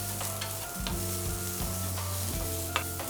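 Eggplant slices sizzle in a pan with an even, close crackle, accompanied by a steady low tonal hum and a few faint ticks, no one speaking.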